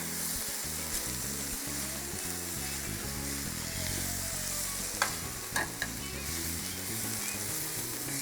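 Food frying in oil in a pan with capsicum, a steady close sizzle with occasional stirring clatter and a few sharp utensil knocks near the end, no talk.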